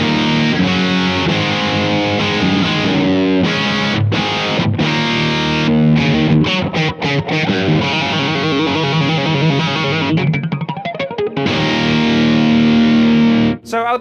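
Distorted electric guitar played through a Blackstar AMPED-1 100-watt pedalboard amp on the cab 3 simulation, with a run of chords, choppy muted stabs and fast picked passages, loud and close, ending on a held note.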